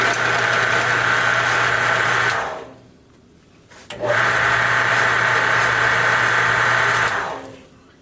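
Harbor Freight bandsaw running after being switched on, a loud steady motor whine and hum that winds down to quiet, then starts again and runs steadily before spinning down a second time.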